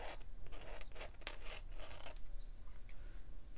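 An ink pen nib scratching across sketchbook paper while drawing vegetables in ink and wash, faint quick scratchy strokes in bursts, close and alone.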